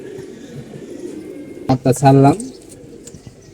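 A pair of red-marked light-necked pigeons gives a short burst of cooing, a few quick notes then a sustained call around the middle, amid background noise with a person speaking.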